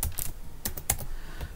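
A password typed on a computer keyboard: a quick, uneven run of close, light key clicks.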